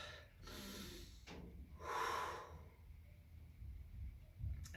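A person takes deep breaths during a home recovery workout, with several close, loud inhales and exhales, the strongest near the middle, alone without talk.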